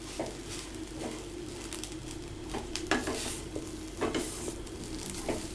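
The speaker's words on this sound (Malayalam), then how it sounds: "നന്നായി ഇളക്കി കൊടുക്കുക." Tender jackfruit thoran mixed with crushed coconut is stirred in a pan over a low flame, with a soft, steady sizzle and repeated scraping strokes of the spoon at close range.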